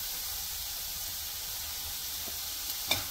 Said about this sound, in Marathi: आता टाकणार आहोत वाटाणे, भिजवलेली सोयाबीन।